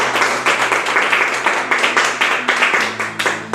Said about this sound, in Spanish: Vamos a dar un fuerte aplauso a la palabra de Dios.